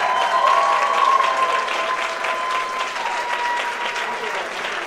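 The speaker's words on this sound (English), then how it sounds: "Give the Torchettes a round of applause, ladies and gentlemen." A ceremony audience at an awards show applauds steadily and loudly, a dense wash of many hands that holds for the whole stretch, with a faint thin tone running underneath and crowd noise mixed in.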